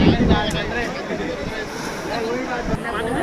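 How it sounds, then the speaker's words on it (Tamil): Strong coastal wind at Kanyakumari, near the Thiruvalluvar statue and Vivekananda Rock Memorial, buffets the microphone in a steady, roaring rush, with a person talking over the noise throughout. "அப்படி அடிக்குது காற்று."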